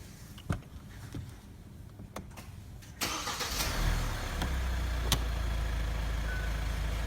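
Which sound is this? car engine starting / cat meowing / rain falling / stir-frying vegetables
car engine starting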